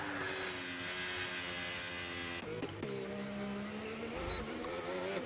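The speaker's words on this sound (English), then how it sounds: "Just on to Blackbeard now, one of the reserve drivers for Williams coming across the line." Formula 1 car racing around Monaco in a racing video game, with a loud, sustained high engine whine that shifts pitch as gears change partway through, steady and close.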